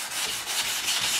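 Sandpaper rubbing wet over car paint in circular motions in a garage, a close, continuous gritty swishing that pulses gently with each stroke.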